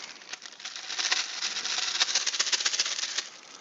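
Cardboard or plastic game chits shuffled inside a bag during a World War II tank board game, a steady dense rattling and clicking that builds and continues for several seconds, close and fairly loud, with no talking.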